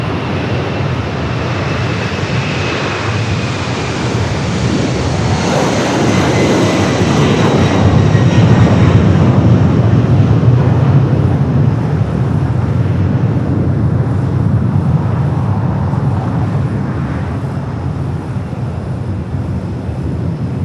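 A China Freight heavy cargo plane at LAX airport, its jet engines roaring loud and close in a sustained, swelling rumble that builds and holds before easing slightly, with no talk.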